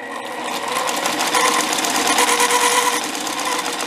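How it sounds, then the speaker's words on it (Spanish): A sewing machine stitches a straight seam in fabric, running as a loud, steady mechanical whir with a fast, even needle rhythm from start to finish, close by and with no talking. "Vamos a hacer la costura para que ustedes puedan observar cómo queda de separada."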